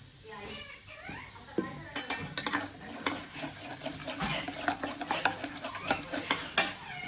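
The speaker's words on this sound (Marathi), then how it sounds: "आपण ढवळून घेऊया" Buttermilk kadhi stirred in a pot, a spoon scraping and clinking against the metal in an uneven run of strokes, close, with a voice speaking faintly at the start and a light sizzle underneath.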